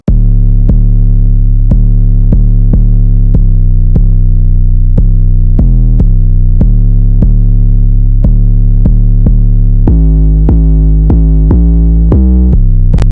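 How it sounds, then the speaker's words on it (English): Deep, booming Rave 808 electronic bass drum hits with long sustained tails, played in a steady repeating pattern that shifts pitch near the end, loud and alone. "This is the 808. It's a Rave 808,"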